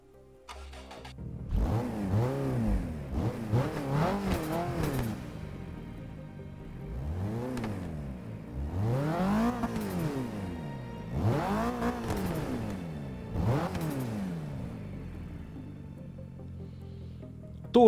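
A right-hand-drive turbocharged car's engine cranks and catches, then revs up and down several times in rising and falling sweeps before settling to a steady idle, heard alone and fairly close.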